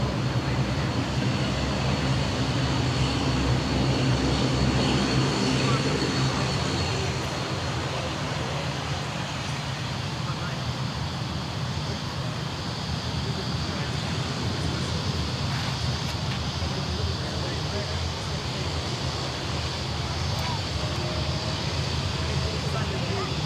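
A Dash 8 propeller aircraft at Sydney Airport hums with a steady engine drone that runs on continuously, moderately loud at first and easing slightly, while people talk over it at times.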